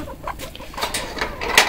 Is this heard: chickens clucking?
yes